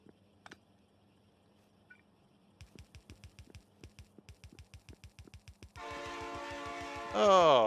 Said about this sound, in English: Oh, yep, that's a train sound.